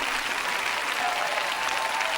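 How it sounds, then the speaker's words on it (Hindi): A sermon audience claps in steady, dense applause that fills the whole moment, loud and close, with no voice over it. "अच्छा होगा आप अधिक तालियां बजाएं"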